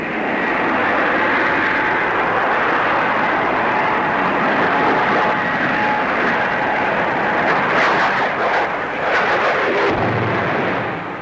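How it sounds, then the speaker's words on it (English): Gloster Meteor jet fighter with two Avon jet engines at Farnborough, a loud sustained roaring whoosh that stays strong for about eleven seconds and swells toward the end. "The Meteor, fitted with 2 Avon jets, is the most powerful fighter in the world."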